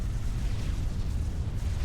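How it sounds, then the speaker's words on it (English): Dense rumbling blasts from a large battle in the real-time strategy game Supreme Commander roll on continuously, heavy and low with no clear gaps. "There's so many explosions."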